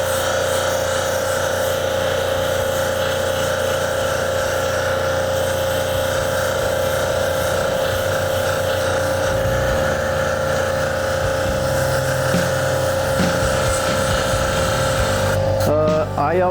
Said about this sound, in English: Now I'm going from the 280 grit to the 600 grit wheel.